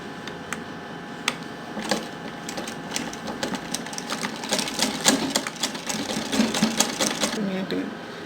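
A sewing machine stitches a double-folded edge on a homemade hip belt in bursts of rapid clatter with short pauses between runs, close by, while someone talks over it.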